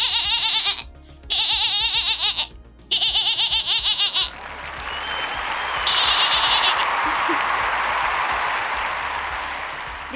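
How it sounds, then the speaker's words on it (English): Goat bleating sound effect played on a livestream: several loud, wavering nasal bleats in quick succession, followed by a wash of cheering and applause-like noise. "Goat noises, pronto!"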